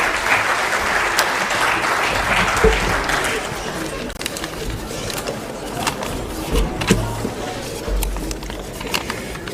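Audience at a Congress rally in Delhi clapping to welcome Ashok Gehlot, a dense wash of applause that swells early and then thins, with a voice speaking over it and a few sharp knocks.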